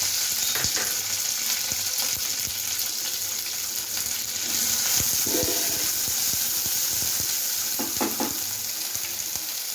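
Crushed thecha hits hot oil already holding curry leaves and sizzles loudly and steadily, with occasional stirring clicks and spatters, close up.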